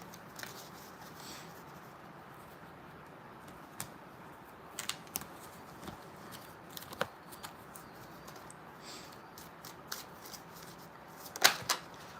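Tarot cards being shuffled at a late-night reading, a soft riffling and patter with scattered sharper card snaps, quiet and close, building to a brief burst of clatter near the end.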